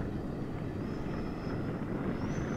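E-flite SU-30 RC model jet flies overhead on 5000 and 7000 SMART batteries, a steady broadband rushing whine of its electric ducted fan that holds constant throughout with no talking.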